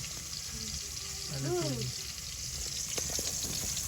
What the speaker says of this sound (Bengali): তো এই যে এখানে ইচা মাছগুলো তেলে দিয়ে নিতেছি।